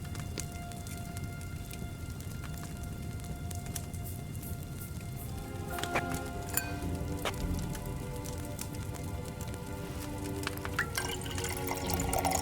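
Steady bubbling of liquid boiling in an alchemy setup in Kingdom Come Deliverance 2, a continuous dense patter with small pops and clinks that grow a little busier toward the end.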